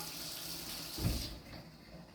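Water runs steadily from a tap into a sink, a soft continuous hiss with a brief louder gush in the middle, close by and with no talk.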